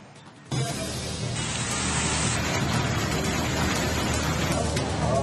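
Heavy pre-monsoon rain pours down in Bengaluru, a dense, steady roar of water hitting the ground that starts abruptly and continues loud to the end.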